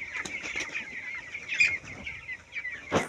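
A sick chicken clucks in short, scattered bursts, close by and fairly clear against a quiet background, with a sharper squawk near the end.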